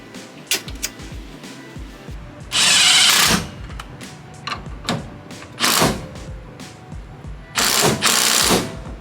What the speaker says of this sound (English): now I'm gonna put the bolt back in for the trailing arm